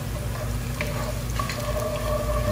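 Garlic sautéing in hot oil gives a continuous close sizzle with soft stirring scrapes, heard alone.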